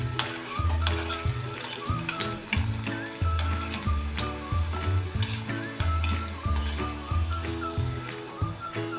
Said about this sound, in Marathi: थोडे तळले की थोडंसं बुडबुडे ह्यातले कमी झाले की आपण हे असं हलवून घेऊया